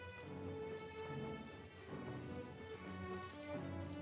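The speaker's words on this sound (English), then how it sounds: "Rain?" Rain and thunder in the video game Metaphor: ReFantazio, a steady wash of rainfall with low rumbling underneath, mixed with sustained tonal game music and no talking.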